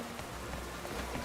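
Steady rain falling in the video game Pokémon Legends Z-A, a soft, continuous patter of drops on surfaces at a low, even level, with no talking.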